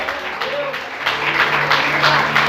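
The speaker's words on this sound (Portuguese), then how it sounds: "Aplaude a Deus, exalte a Ele por isso." A church congregation applauds God during a sermon, a brief, busy wash of clapping from many hands in a reverberant hall over a low steady hum.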